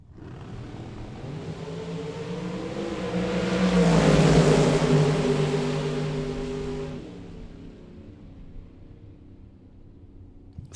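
A dragster and a Chevelle making a drag race run at a Las Vegas bracket race: engine roar swells to a loud peak midway and then fades into the distance, with no talk.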